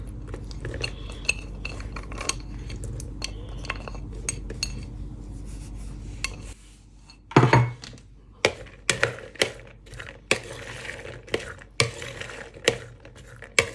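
A cauliflower salad being mixed with pomegranate seeds, walnuts and corn, a low rumble giving way to a run of close, irregular clicks and scrapes of a utensil against the bowl.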